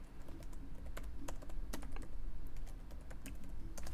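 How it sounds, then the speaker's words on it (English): Computer keyboard keys tapped out for a search entry, quick uneven clicks close up over a steady low room hum, with no voices. "Click it, and I will type Profit Scalping."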